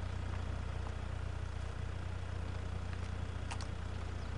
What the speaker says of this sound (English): Nice sounding exhaust and stuff.